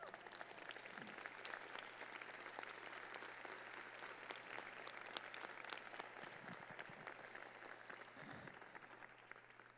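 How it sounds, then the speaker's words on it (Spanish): Sustained applause from a church congregation, dense and steady for the whole stretch, with a low constant hum running underneath. "¿Le puedes dar un fuerte aplauso a Jesús?"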